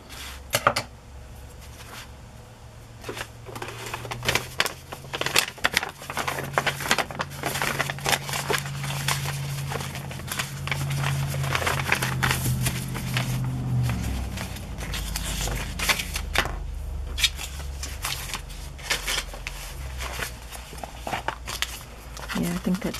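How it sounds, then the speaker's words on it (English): Copy-dyed paper being handled and crinkled for a chocolate-themed journal: close, irregular crackling and rustling that comes in bursts over about twenty seconds, with speech scattered across the clip. "Copy dyed paper is noisy."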